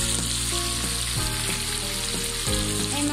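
Hilsa fish pieces lightly frying in hot oil, a steady close sizzle with crackling, interrupted by a few soft knocks from stirring or turning the fish.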